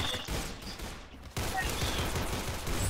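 Gunfire in the Roblox shooter Arsenal, a dense continuous volley of rapid shots that briefly drops off, then resumes at full loudness.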